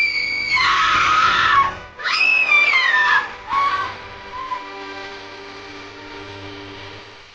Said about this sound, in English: Her laughter turned to screams.